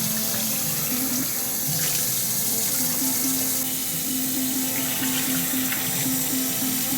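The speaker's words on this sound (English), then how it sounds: "fill it up with water, and you're going to stir it up like this with your hands" Water runs into a pot of rice that is being rinsed and stirred by hand, a continuous close splashing rush with faint sloshes from the stirring and a low steady hum beneath.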